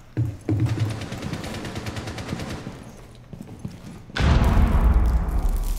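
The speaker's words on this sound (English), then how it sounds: "You should attack while she's just shooting it." Rapid automatic gunfire in Rainbow Six Siege on the Club House map, dense bursts of sharp shots in quick succession, with a pause and then a louder, heavier volley near the end.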